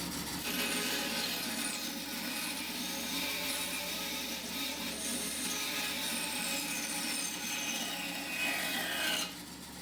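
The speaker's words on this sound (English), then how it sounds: "Then I'll use the bandsaw to cut off the excess." A bandsaw cuts steadily through wood, trimming excess off a picture frame, a continuous rasping whine that holds for about nine seconds before cutting out abruptly.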